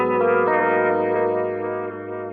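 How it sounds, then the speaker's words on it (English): A sustained guitar chord rings through a Line 6 Helix transistor tape delay, its wet repeats smearing into a dense, steady wash that fades slightly toward the end, with no talking. "Basically, we're just hearing the wet effect of the delay."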